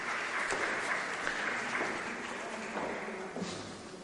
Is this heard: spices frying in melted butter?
no